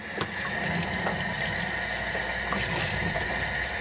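Water runs steadily from a tap into a bottle, filling it with a continuous, close hiss and gurgle. A small knock comes near the start, and the flow cuts off abruptly at the end.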